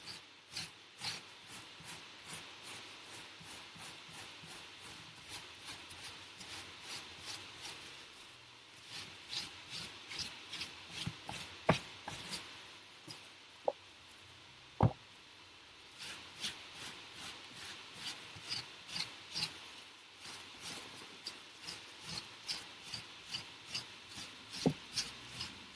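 A damp sponge rubs grout across a flat MDF mosaic hot plate with rapid, rhythmic scrubbing strokes. The strokes are steady and close, pause briefly partway through, then pick up again, and no one speaks.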